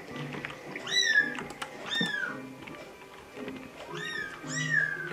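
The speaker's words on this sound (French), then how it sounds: "J'ai un petit chat qui vient de grimper sur mon épaule et qui est en train de me dire dans l'oreille « Miaou, j'ai faim »" A small pet cat perched on a shoulder right beside the microphone gives several loud, close meows in two bursts, with a short quiet gap between them.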